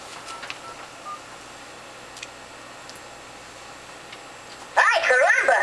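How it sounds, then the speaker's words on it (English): A phone dials an extension on a Cisco hard phone system, a quick burst of loud DTMF keypad tones near the end after mostly quiet background with a few faint ticks. "I'm going to dial extension 2004."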